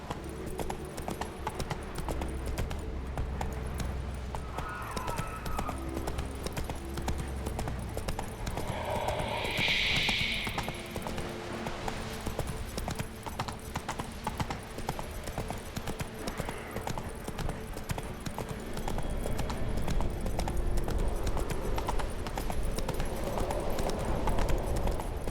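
A horse's hooves clip-clop steadily while riding in the video game The Witcher 3, an even trotting rhythm that continues throughout with faint ambient game sounds underneath.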